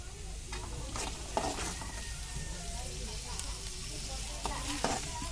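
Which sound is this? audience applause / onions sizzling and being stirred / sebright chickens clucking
onions sizzling and being stirred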